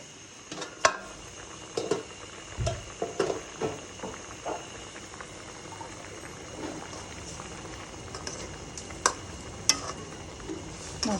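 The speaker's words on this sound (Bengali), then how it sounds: "মাছটা কষানো হয়ে গেছে।" Fish pieces being sautéed and turned in a pan, with soft sizzling and scattered scraping and stirring knocks throughout.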